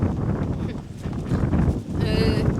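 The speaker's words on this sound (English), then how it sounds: "It's windy!" Gusty wind buffeting the microphone in low rumbling bursts, loud and close, with a brief voice partly buried in the noise.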